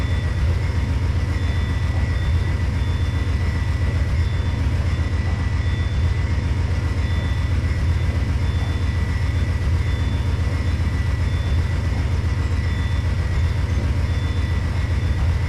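Inside a locomotive cab hauling a 27-car train, a steady loud droning engine rumble with constant rail noise, unchanging throughout.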